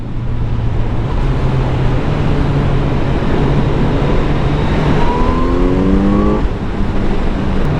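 A Kawasaki Z900 motorcycle engine hums steadily during a ride, then revs up in several rising, stepped pulls near the end, loud and close over wind and road noise, with no talk.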